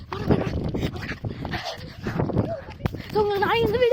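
A dog whimpers and yips near a house, with high whining cries toward the end, mostly under steady close speech from people talking throughout.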